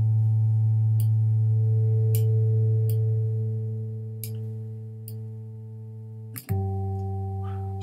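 A steady, loud additive synth tone from a Max MSP oscillator whose harmonics are shaped by faders, an organ-like drone with small clicks as settings change and a sudden shift in timbre near the end, with no talking.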